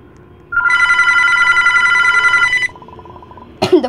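A bright electronic phone ring in the Roblox game Airplane 2 sounds loudly for about two seconds and then stops, followed by a sharp click or thud.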